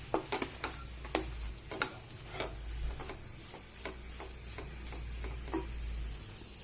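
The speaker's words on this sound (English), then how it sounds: "I'm going to fry it up nicely in this, with this mushroom and everything." Mushroom and maida (refined flour) frying in a pan, with a steady low sizzle under a run of sharp clicks and taps as a utensil stirs and scrapes the pan.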